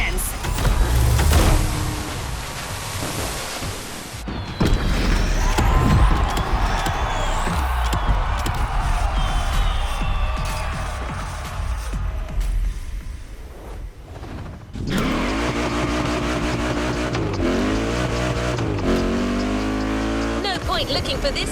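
A race car in the video game The Crew Motorfest roars at high revs toward the finish line, with engine whine, gear shifts and a burst of crowd and music effects as it crosses; loud and continuous, with no speech over it.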